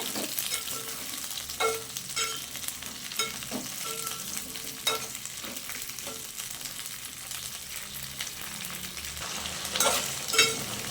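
Tender okra sizzles steadily in a hot pan while a spoon stirs it now and then, with scattered scrapes and clinks over a constant frying hiss.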